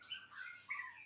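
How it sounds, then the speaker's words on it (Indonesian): White-rumped shama (murai batu) song, a short run of bright chirping whistles with a sharp louder note near the end, faint and alone. "Burung murai batu"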